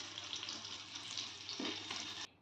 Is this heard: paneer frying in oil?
yes